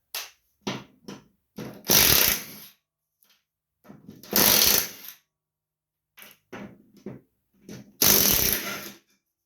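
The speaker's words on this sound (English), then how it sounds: "These bolts here, there's 4 per spindle. They're 10 millimeter. So go ahead and take them off." Hand tools working the 10 mm bolts that hold a mower-deck spindle on a John Deere LA145 riding lawn mower: a few bursts of ratcheting with scraping and clanking between them, close and fairly loud, with pauses of quiet.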